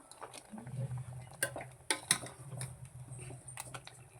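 A spoon stirs cooked village-style mango curry in a pot, giving faint scraping and a few sharp clinks of metal against the pot over a soft background hiss.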